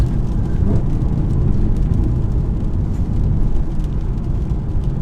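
A 2014 Mercedes C63 with a 6.2L 550 bhp V8 accelerating at full throttle on a wet road, a dense, steady low engine roar heard from inside the cabin, loud and unbroken with no talk.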